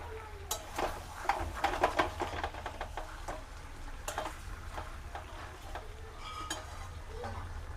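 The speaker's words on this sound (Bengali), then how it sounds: "আর কিছুটা কষে নিই ভালো করে মাটন যত বেশি ভালো করে কষা যায় তত বেশি টেস্ট হয়" Mutton being stir-fried (kosha) in a pan for curry, with scattered scraping and clinking of a spoon against the pan over a faint sizzle, irregular and close.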